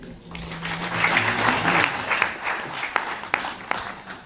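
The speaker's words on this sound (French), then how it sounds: "applaudissements pour Serge Glissant" Audience applause at the opening of a short-film festival in Paris swells from a brief voice into sustained clapping, then thins out into scattered individual claps near the end.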